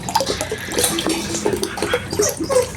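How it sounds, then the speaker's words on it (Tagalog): Water pouring from a one-litre Coke bottle, used to measure water for homemade lemon dishwashing liquid, splashes and gurgles steadily throughout at close range. "Gumamit po tayo dito ng litro na bote ng Coke para mas matansya natin ng exact yung ating tubig na gagamitin."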